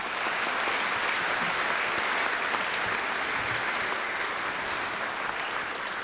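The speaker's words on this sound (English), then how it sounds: "Please join me in giving our students a round of applause." A school audience at a high school awards evening applauds students with steady, dense clapping that fills the room evenly for the whole stretch, with no voices rising above it.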